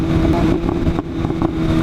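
A motorcycle with a loud aftermarket exhaust rides along a mountain road in Mexico, its engine a steady, close, rumbling drone with small surges in throttle throughout.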